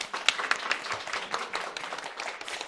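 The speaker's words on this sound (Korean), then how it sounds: "우리 박수 한번 쳐주세요." A church congregation claps together, a lively burst of many hands with distinct sharp claps standing out from the crowd, sustained at a steady level throughout.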